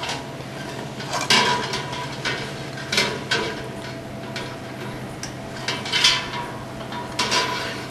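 A metal instrument and a spoon set into a pot of water, giving several light clinks and taps at irregular intervals over a steady low hum.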